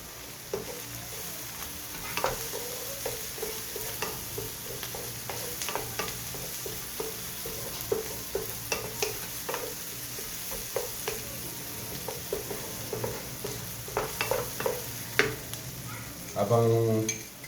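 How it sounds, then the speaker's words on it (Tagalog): Food sautés in a frying pan with a soft background sizzle while a utensil scrapes and taps the pan in irregular strokes, close and fairly quiet, ending in a brief louder clatter. "Habang binigisa natin yan, kailangan haluin natin ng haluin ito."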